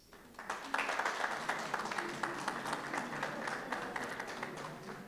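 Audience applause at a 2025/2026 UFS QwaQwa Campus student council inauguration ceremony, rising quickly into a sustained, fairly soft wash of many hands clapping in a hall.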